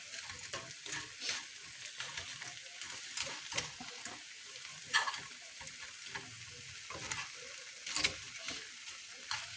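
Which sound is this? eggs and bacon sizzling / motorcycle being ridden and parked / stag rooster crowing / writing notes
eggs and bacon sizzling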